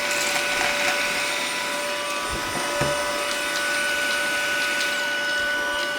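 Car vacuum cleaners running as they suck up a mess, a steady close whine with a faint rattle of debris being pulled in, with no talk.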